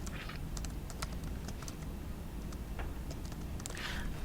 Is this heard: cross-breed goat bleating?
no